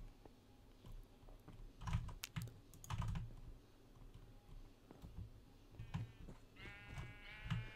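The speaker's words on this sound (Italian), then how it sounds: "Allora andiamo nella mia farm di pecore." Computer keys clack in quick bursts while a couple of synthetic Minecraft sheep bleats sound faintly, ending with a wavering bleat over the typing.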